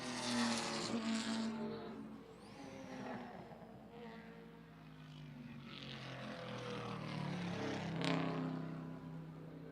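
Race cars lapping Lime Rock Park, their engines droning steadily with rising and falling pitch as they pass, a continuous, fairly loud roar with commentary faintly underneath.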